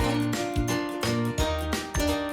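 Cheerful, bouncy film-score style music with a repeating bass line and bright sustained chords, played loud and steady with no talking over it.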